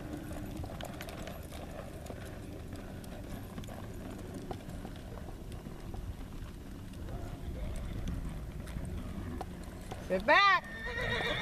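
Horse hooves clop along with a short, loud whinny near the end, while people talk and a rider is coached throughout.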